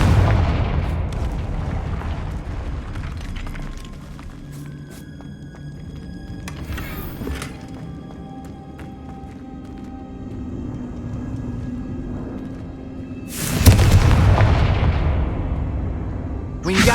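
A Confringo fire spell explodes in Hogwarts Legacy with a sharp, heavy boom and rumbling decay late in the sequence, following a softer burst earlier over steady game ambience.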